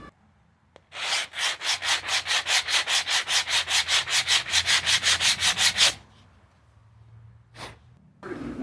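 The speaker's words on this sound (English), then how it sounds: "here we see the results of the sanding it by hand with the block" A tile edge being sanded by hand with a sanding block, about twenty quick rhythmic rasping strokes, close and loud, followed by a pause and one more short scrape.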